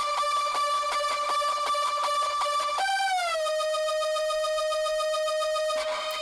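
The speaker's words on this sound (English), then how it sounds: "this final drop kind of revolves around this siren that I made" A synthesized alarm-like siren lead from an electronic song's final drop, a bright buzzy sustained tone holding steady, then gliding down in pitch and settling, loud and alone without any voices.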